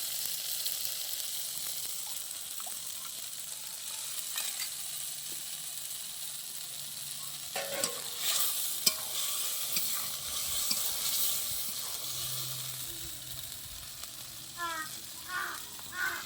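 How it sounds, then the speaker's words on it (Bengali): Ground spice paste hitting hot oil for mutton kosa, a soft continuous sizzle with scattered stirring clinks and scrapes, fairly faint, a few bird caws in the background. "তেল গরম হয়ে গেছে, আমার মিক্সির পেস্ট করা মশলাটা এবার দিয়ে দেবো।"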